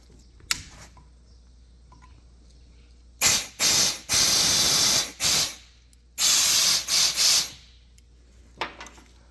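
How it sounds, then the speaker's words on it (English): Bursts of compressed air hiss loudly from an air wand driven into the inlet of a hydraulic brake piston on a Farmall 706 tractor, coming as several sharp blasts in two clusters with quiet gaps between them. "Now that we've blown compressed air through our inlet, we've unseated the actual piston itself from the housing"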